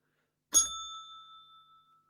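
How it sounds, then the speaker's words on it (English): A positivity bell sound effect on a radio show rings out once, a bright bell strike with a ringing tone that fades away over about a second and a half. "Where's that positivity bell?"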